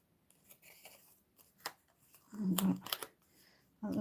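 Scissors snipping through curtain fabric close by, a few short crisp cuts with rustling of cloth between them, the loudest bursts near the end; no talking.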